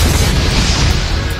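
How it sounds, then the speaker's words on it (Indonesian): A shoe blows up like a bomb in a film, a loud, sustained, rumbling boom that fills the whole moment with dense low-end roar. "sepatu itu meledak seperti bom"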